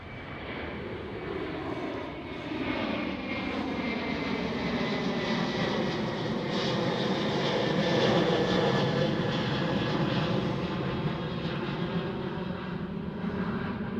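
A KLM Airbus A330 takes off from Amsterdam Schiphol Airport, a sustained jet-engine roar that rises and swells to a broad peak near the middle, then holds steady at a moderate distance with no voices.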